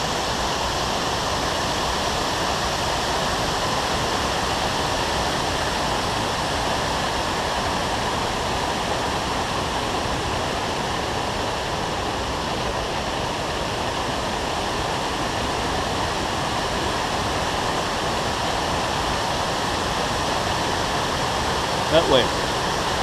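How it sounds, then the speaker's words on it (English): A loud, full waterfall roars steadily and continuously, a dense wash of rushing water with no pauses throughout. "I can barely hear the receiver because the waterfall is just so loud and so full"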